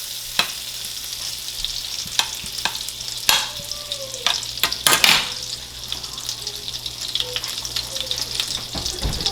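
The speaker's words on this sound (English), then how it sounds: "this butter is getting nice and melted" Butter melts and sizzles in a skillet for gumbo with a continuous fine crackle, punctuated by sharp clinks and scrapes of a utensil against the pan.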